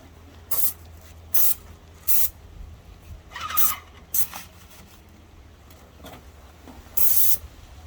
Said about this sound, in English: I'm just going to spray the first coat real quick and then back roll it in